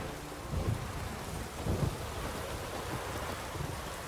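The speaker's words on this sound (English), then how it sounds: "A storm, damn it." A thunderstorm in the video game The Witcher 3: steady heavy rain hisses over a low, continuous rumble, with two deeper thunder rolls swelling a little over halfway through and fading back into the downpour.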